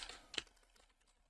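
A few quiet keystrokes on a computer keyboard while a search is typed, a short cluster of soft clicks then fading, no talk.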